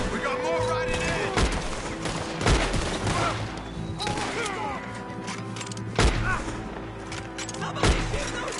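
Gunfire rings out in a Red Dead Redemption 2 shootout, with sharp shots cracking at irregular intervals, several standing out as loud bursts, over background commotion and voices shouting.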